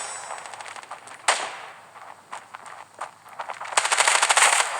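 Bursts of rapid video game gunfire crack out, some single shots and some quick rattling volleys, growing denser toward the end.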